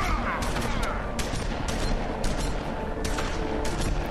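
Rapid bursts of shotgun and gunfire in The Wolf Among Us, a dense, continuous volley of overlapping blasts with steady loudness over a busy background, no pauses throughout.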